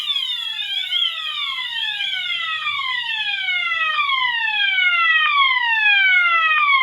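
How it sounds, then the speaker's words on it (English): A Wheelock MT fire alarm sounds its siren tone, a loud, steady series of repeated falling electronic wails that continues without pause, heard alone with no voices. "We have Siren for the Wheelock MT."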